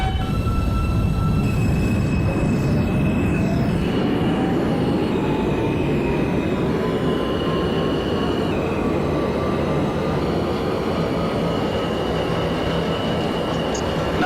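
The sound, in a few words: R160 subway train running, from OpenBVE train simulator game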